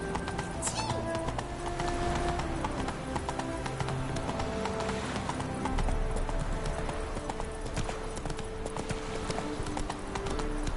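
A horse galloping in The Witcher 3, with steady rapid hoofbeats clip-clopping throughout, close and continuous, under a bed of game ambience.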